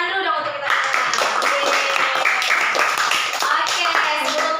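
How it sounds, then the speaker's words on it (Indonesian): A classroom of children claps hands together in a dense, loud burst of rapid slaps, with young voices calling out among the applause throughout. "Tepuk tangan dulu dong untuk kita semua."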